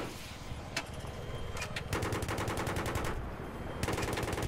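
Automatic weapon fire in the Battlefield 3 video game, a steady stream of rapid, dense gunshots under continuous loud battle noise, with a few sharper single cracks.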